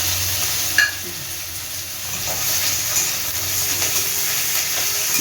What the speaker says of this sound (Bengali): একটু জিরে ফোড়ন আর তেজপাতা ফোড়ন দিলাম, দিয়ে একটু পেঁয়াজ কুচনো দিলাম, পেঁয়াজ বাটাটা দিয়ে দিলাম